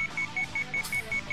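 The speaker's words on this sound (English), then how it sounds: "His alarm was going off" A game alarm in the visual novel Sweet Fuse beeps in a fast, regular series of about eight short electronic pulses at moderate volume, with no talking.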